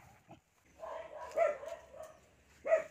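A few dog barks and yelps at a cemetery, somewhat distant and faint, irregularly spaced over a quiet background.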